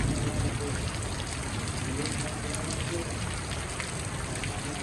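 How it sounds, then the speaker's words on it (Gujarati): Steady, long-awaited rain pours down close by as a dense, even hiss that holds at the same loudness throughout, with faint voices murmuring underneath. "વરસાદ આવતો જ નહોતો પણ હવે આવી ગયો"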